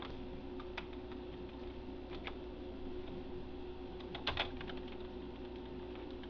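Computer keyboard typing in a text-based game, heard as sparse, faint clicks and short key bursts over a steady low hum, with a brief louder cluster near the end.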